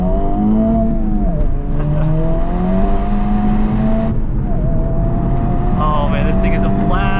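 A Honda Civic Type R FL5 drives hard on canyon roads with the windows up, its engine note climbing and falling through gear changes, loud and close from inside the cabin, with a brief pause before it pulls again.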